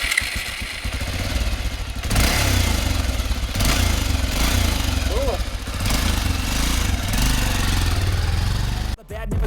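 A Bajaj Pulsar 400 motorcycle idles close by with a steady, rumbling drone that swells slightly after the first couple of seconds and briefly cuts out near the end. A voice talks over the engine.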